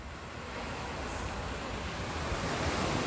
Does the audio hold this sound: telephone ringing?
no